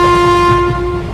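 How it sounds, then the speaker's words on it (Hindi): A cartoon train pulling out of a station, sounding a loud, sustained steady horn tone up close. "गुल्ली बुल्ली और सोन के ट्रेन से उतरते ये ट्रेन चली जाती"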